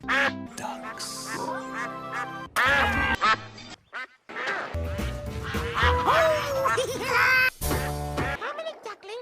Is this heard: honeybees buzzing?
no